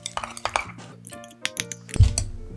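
A spoon stirs softened cream cheese in a bowl for an anchovy dip, making a string of light clinks and scrapes against the bowl, with one heavier knock near the end.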